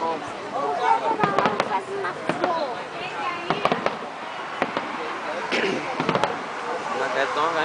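New Year fireworks bursting over a city at the 2010 to 2011 turn of the year, with a series of sharp cracks and pops at irregular intervals while people chat nearby.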